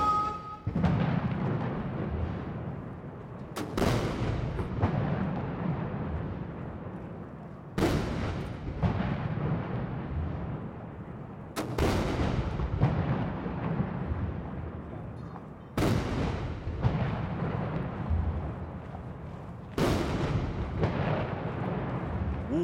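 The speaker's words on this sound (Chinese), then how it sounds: "鸣礼炮" Ceremonial artillery salute at the 2019 China National Day military parade, with powerful cannon booms fired at steady intervals of about four seconds, each blast followed by a long rolling echo across a large open square.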